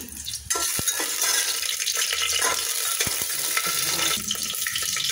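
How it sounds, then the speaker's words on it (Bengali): Whole spices hit hot oil in a pressure cooker with a sudden burst of sizzling, a steady loud crackle and spatter that continues with a few sharp pops. "এই যে কুকারে এখন আমি তেল দিয়ে দিছি, তেল গরম হচ্ছে। এগুলো ফোড়ন দিয়ে দিলাম"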